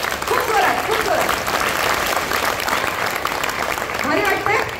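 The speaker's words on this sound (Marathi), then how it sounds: "एकदा जोरदार टाळ्या तिच्यासाठी." A crowd of schoolchildren and guests gives a loud, sustained round of applause for a girl standing at a Girl Child Day school event, dense clapping throughout with a voice briefly heard over it.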